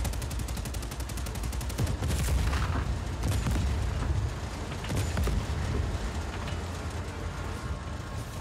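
A tank's machine gun firing in Just Cause 4, a fast, steady stream of rattling shots, loud and continuous, mixed with heavier thuds and the mechanical rumble of the vehicle.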